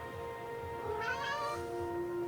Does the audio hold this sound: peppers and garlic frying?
no